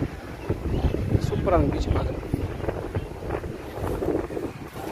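Strong wind buffets the microphone on an open beach beside a temple in Besant Nagar, Chennai, a steady low roar with gusts running under people talking throughout.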